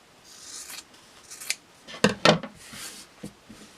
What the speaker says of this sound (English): trim about 1/4 inch away from the stitching line